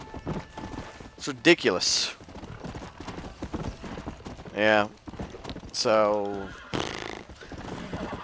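Horses in the Red Dead Redemption online lobby, with hoof clip-clop and several loud whinnies and squeals between stretches of someone talking over game sound.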